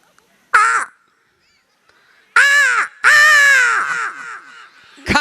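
A man performing comedy at a jubilee celebration imitates a crow with his voice: one short caw, a pause, then two long, loud, nasal caws close to the mic, with a faint click at the end.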